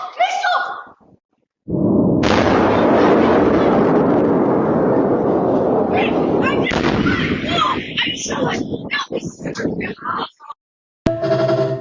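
Missile strikes and explosions play from a reaction video: a long, loud, continuous roar of blasts and rumbling dominates, then breaks into sharper bursts and crackles near the end, with voices of viewers reacting over it.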